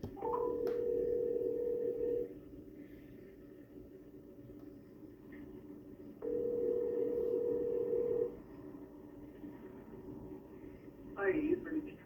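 Two long ringback tones sound over a phone line while calling the parents, each about two seconds long and separated by a roughly four-second pause, with faint low background hum between them.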